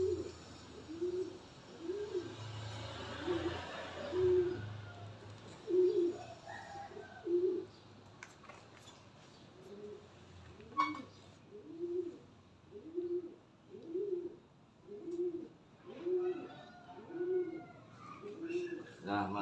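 A pet racing pigeon, ill with snoring and a cold and coated in oil, coos in a steady, regular rhythm of soft throaty calls close to the microphone over about twenty seconds, with quiet handling noise in between.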